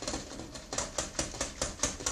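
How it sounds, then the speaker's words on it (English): A whisk beats beer batter in a bowl with quick, regular clicking taps, about four or five per second, light and close, with no voices. "you do want to whisk this until it's all mixed together"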